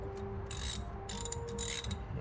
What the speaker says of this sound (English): And now I can get my ratchet